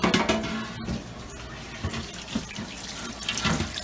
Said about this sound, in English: Get your water in there.